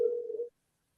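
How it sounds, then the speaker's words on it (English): A single steady electronic beep from a phone during a call, lasting about half a second, then silence. "it's something beeping."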